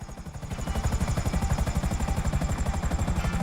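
Helicopter in Grand Theft Auto V, its rotor chopping in a fast, regular pulsing beat that comes in loud and close and holds steady throughout, with no speech.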